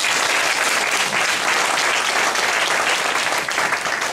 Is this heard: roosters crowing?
no